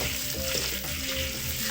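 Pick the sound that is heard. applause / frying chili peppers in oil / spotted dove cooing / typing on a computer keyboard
frying chili peppers in oil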